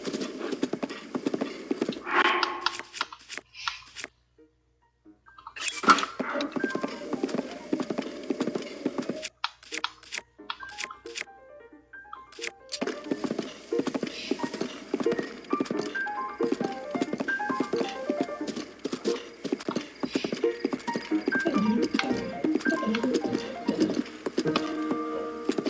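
Horse hooves clip-clop in rhythmic runs in the Zelda: Tears of the Kingdom video game, with game music, a brief whinny and short pauses between stretches of riding.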